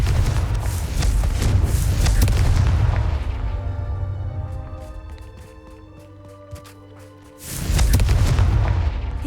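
A Confringo blasting spell in Hogwarts Legacy erupts in deep, heavy booming blasts that rumble for several seconds, fade into a quieter ringing tail, then a second loud explosion bursts in near the end.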